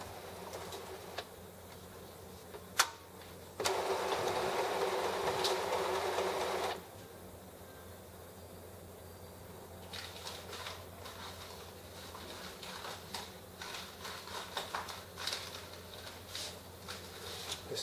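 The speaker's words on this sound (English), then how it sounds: "So it's just performing a nozzle check print." An Epson XP-222 inkjet printer running a nozzle check print, with soft mechanical clicks, a louder buzzing whir of the print head for a few seconds, then fainter intermittent clatter and feed noises, all fairly quiet and close.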